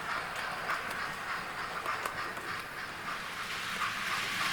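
A model train, the Earl of St Germans hauling a rail tour, rolls steadily across a layout with a viaduct and tunnel. It makes a continuous soft rumble and hiss with faint rhythmic clicks of wheels on track.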